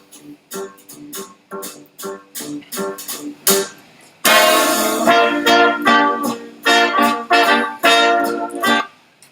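Song intro of plucked, staccato tones in a bouncing rhythm that swells into a fuller, louder band passage with a driving bass line, the notes punchy and close.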